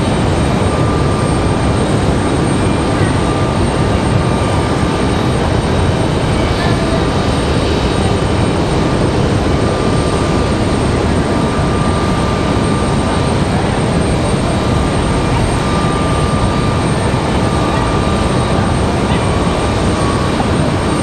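Republic Airways jet taxiing at Raleigh-Durham airport, a constant close engine whine and rumble holding evenly throughout, with a thin steady tone riding above it.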